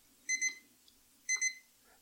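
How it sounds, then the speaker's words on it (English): An electronic alarm beeps in two short double bursts about a second apart, clear and fairly close in an otherwise quiet room. "Do you hear a beeping?"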